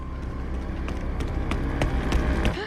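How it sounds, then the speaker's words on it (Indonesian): Footsteps run fast in a film scene set on a forest road, a rapid, steady patter of thudding steps over a constant rumbling background. "gema suara aneh yang bikin merinding, kayak suara derap langkah kaki goib yang lagi berlari kencang ke arahnya"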